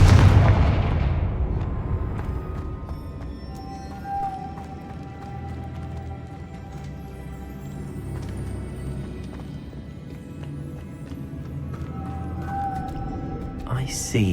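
A Confringo spell blast in Hogwarts Legacy opens with a loud booming impact that decays over a second or two, followed by lower rumbling game ambience with faint tonal effects.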